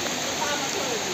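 Heavy rain pours down outside a house in a dense, steady hiss that fills the whole short stretch, loud and close.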